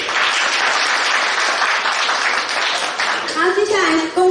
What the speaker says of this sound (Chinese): 请掌声鼓励。